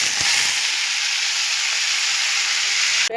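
Cumin seeds and potato pieces frying in hot oil give a loud, steady close-up sizzle with a bright hiss, ending in a brief clatter.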